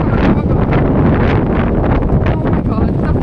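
Strong wind buffets the microphone on a very windy day outdoors near trees, a loud continuous rumble and roar with rustling leaves, while excited voices talk over it.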